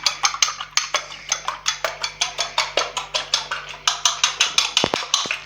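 An egg and milk beaten in a bowl produce quick, regular strokes at about four per second, with close, crisp clinks against the bowl and no talking.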